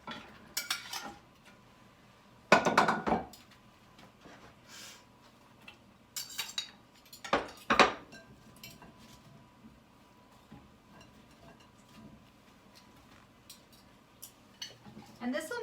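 Vegetables are tossed with seasonings and coconut oil, giving a few sharp clattering bursts of utensils against a pan or bowl between long quiet stretches, close by, with a voice talking faintly at times.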